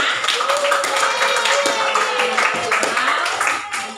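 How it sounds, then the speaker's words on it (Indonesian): Classroom clapping at the end of a maths lesson on rational numbers, loud rhythmic hand claps from students mixed with chatter and voices close by. "Untuk hari ini, tepuk tangan buat kita semua."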